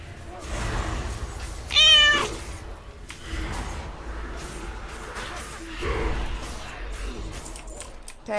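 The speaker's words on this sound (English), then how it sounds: "whoever played the kitty cat sound" A short, bright cat meow sound alert on a livestream rings out once, loud and clear, amid a low background murmur and some faint voices.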